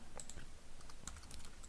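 Quick clicking keystrokes on a computer keyboard come in an irregular burst of taps, close and quiet, with no speech.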